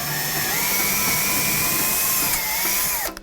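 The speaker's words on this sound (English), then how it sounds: "You're gonna drill the rivets out to pry this open." A power drill bores out the rivets of an audio cassette tape shell resting on a piece of wood, giving a loud, steady, high whine that holds for about three seconds before winding down.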